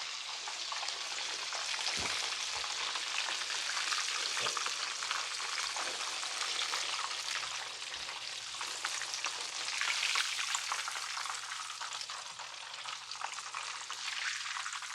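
Breaded chicken cutlets frying in burning-hot oil make a continuous bright, dense sizzle. It stays close and even throughout, with faint scattered low knocks.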